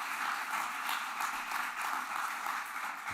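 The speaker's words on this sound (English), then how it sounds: "might just give Mairead and Meadbh and Niamh a round of applause just for that" Audience at a science stakeholder event giving a round of applause for a panel, a steady, fairly faint patter of many hands lasting a few seconds with no talk over it.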